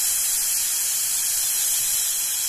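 A pressure cooker releasing steam gives a steady, loud, close hiss that runs unbroken from start to finish.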